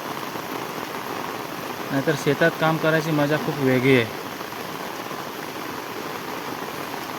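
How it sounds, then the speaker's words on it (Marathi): Heavy rain pours steadily over a farm field, a constant hiss throughout, with a person talking briefly partway through. "काय पाऊस पडतोय"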